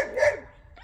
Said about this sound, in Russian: А вот собаки, они видят Бетти, они на нее гавкают